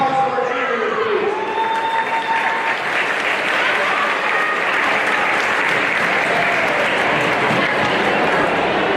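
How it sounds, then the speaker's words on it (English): A gym crowd at a high school boys basketball game applauds and cheers for the cheerleaders, a loud, continuous wash of clapping sustained throughout, with faint whistle-like tones early on. "a round of applause for our cheerleaders,"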